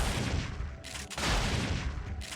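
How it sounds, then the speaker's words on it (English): Automatic turret gunfire in Parasite Eve 2 on PS1, a dense, continuous rattle of shots with a brief dip near the middle before the barrage resumes, loud and sustained throughout. "he's down and is being targeted by the turrets"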